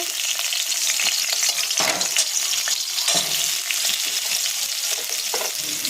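Pumpkin, drumsticks, beans and carrot fry in hot oil with a loud, continuous sizzle close at hand, broken by the scrape of a few stirring strokes.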